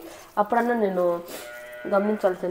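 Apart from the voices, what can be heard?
young goat kid bleating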